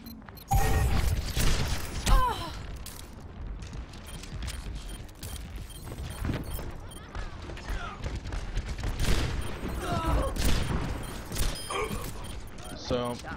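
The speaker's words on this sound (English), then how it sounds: "Firing off a few weaker rounds." Widowmaker's sniper rifle in Overwatch fires a few weaker uncharged rounds, quick sharp shots scattered through busy game action with a voice speaking over the mix.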